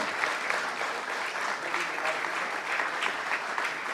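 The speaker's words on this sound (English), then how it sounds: "Let's keep the applause going." Sustained crowd applause for a minister receiving a standing ovation at a formal ministerial session, dense and steady throughout with no break.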